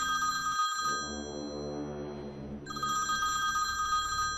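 A telephone bell rings loudly in two bursts of bright, rapid trilling separated by a brief pause, close and alone.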